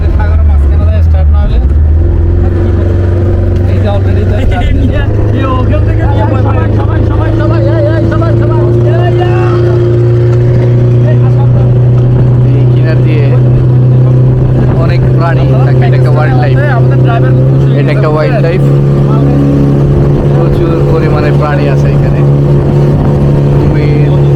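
A safari boat's motor drones steadily and loudly on open water, its low hum holding for the whole stretch with a slight rise in pitch midway, and faint voices are mixed in beneath the engine.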